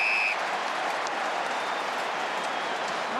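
Stadium crowd at an AFL Grand Final between Hawthorn and Sydney, a steady, far-off roar of applause and cheering filling the ground without a break.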